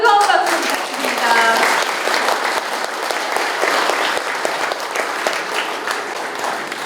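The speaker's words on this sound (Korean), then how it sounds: "멋진 무대를 선물해주신 김정 교수님께 다시 한번 뜨거운 박수 부탁드립니다" Sustained applause from a lecture audience after a performance, steady and fairly loud, fading slightly toward the end.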